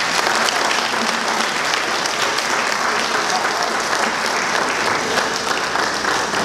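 Dense, sustained applause from a church congregation fills the space at steady loudness throughout, with no speech rising above it.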